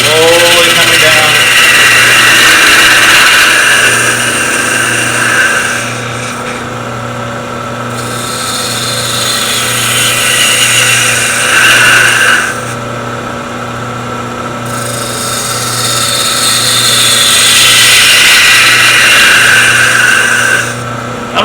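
A wood lathe spins a wooden vase while a turning tool cuts along it, riding the bevel: a steady motor hum under continuous scraping and hissing cuts that swell and fade in long passes, with a brief pause midway and occasional talk.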